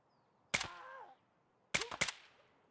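Suppressed gunfire in the video game Escape from Tarkov: one sharp shot with a short ringing tail, then a quick burst of two or three more shots about a second later, with quiet gaps between.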